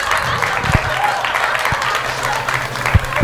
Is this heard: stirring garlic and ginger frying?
no